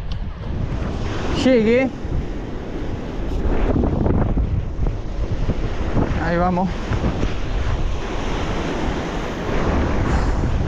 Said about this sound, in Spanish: viento bien de frente tengo, noreste, está muy de frente